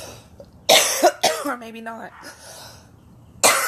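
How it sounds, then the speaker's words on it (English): A person coughs and clears their throat in several harsh bursts, close and loud, with a brief spoken remark between the coughs. "before I go into a cough attack,"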